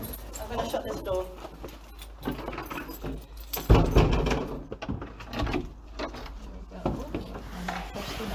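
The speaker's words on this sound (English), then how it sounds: "I'm going to shut this door." Indoors at Bannockburn House, a door is pushed shut with one solid thud about halfway through, surrounded by shuffling, rubbing and room noise while people talk nearby.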